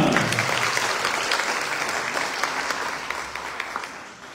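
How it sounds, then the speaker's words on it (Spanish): Audience at an academic-year inauguration ceremony in Chilca, Peru, clapping steadily for several seconds, a dense patter that gradually fades toward the end. "Comisaría de Chilca. ¡Fuerte las palmas!"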